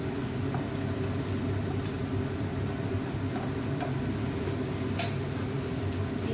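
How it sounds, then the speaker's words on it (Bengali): Chopped onions fry with potatoes in a pan, giving a steady dense sizzle that continues evenly throughout. Faint scrapes of a stirring utensil come through now and then, heard up close with no talking. "পেঁয়াজটাও 2 থেকে 4 মিনিট ভালো করে ভেজে নেব"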